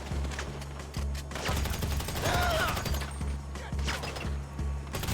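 Assault rifle gunfire in a GTA game, rapid repeated shots and clattering bursts running through the whole stretch at fairly close range, with a steady low rumble underneath and no talk.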